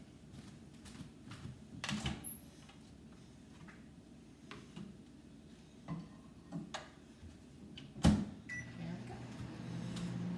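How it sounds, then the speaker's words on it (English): A steady low hum of a microwave oven running, with occasional clicks and knocks over the drone, fairly quiet and close. "I'm going to put them in the microwave for just 1 minute"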